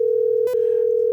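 A steady telephone dial tone hums alone at even loudness, broken by one brief click or tap midway, with no voices.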